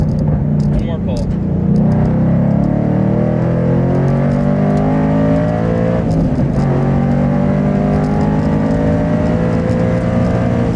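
A Ford Mustang Boss 302 pulls hard on a race track, its engine loud and close as the revs climb steadily through a long continuous acceleration, with a brief dip around a gear change.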